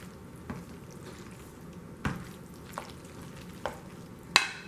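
Taco salad ingredients are stirred in a pan over a faint sizzle, with a few sharp utensil scrapes and taps spaced irregularly. There is no talk.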